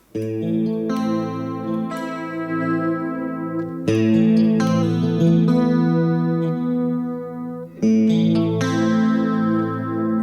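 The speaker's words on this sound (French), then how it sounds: "Ça, c'est un son de chorus." Electric guitar with a chorus effect at a guitar masterclass, ringing out three broad strummed chords that each sustain and shimmer for a few seconds before the next, loud and close with no talking.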